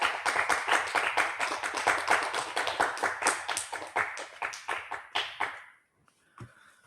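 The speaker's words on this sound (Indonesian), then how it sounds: "Tepuk tangan." A talk-show studio audience claps in quick, fairly rhythmic applause that carries steadily for several seconds before dying away, followed by a stray tap.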